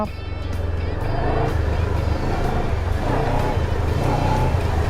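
Motorcycle engine held at steady throttle during a Thai basic throttle-control riding lesson, a loud continuous low rumble with mild surges as the grip is worked, close up and without talk.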